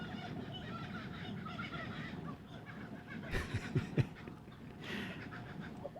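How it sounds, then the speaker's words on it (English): Laughing kookaburras call in a cackling, rising and falling chorus outdoors along a cycling route. The calls are moderately close and grow louder in bursts toward the middle, with no talking over them. "They are called laughing kookaburras for that exact reason"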